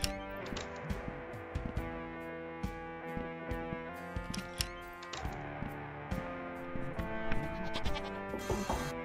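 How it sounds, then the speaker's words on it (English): Goat bleating in the video game Sally Face, repeated short nasal bleats over a sustained tonal music bed, several calls spaced through the passage with no talking. "I swear I hear a goat."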